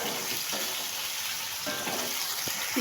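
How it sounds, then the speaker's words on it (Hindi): Garlic and ginger paste frying in a pot for beef pulao, a steady soft sizzle with occasional stirring scrapes, fairly quiet and close, with no talking. "लहसुन अदरक मेरा फ्राई हो चुका है।"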